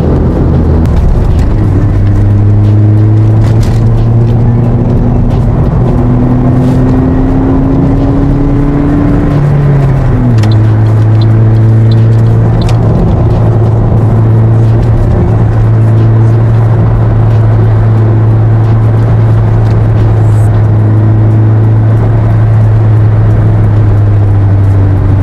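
Car exhaust fitted with a Greddy chambered muffler, a steady low engine drone that rises and shifts pitch as the car accelerates, with steady road and cabin noise throughout.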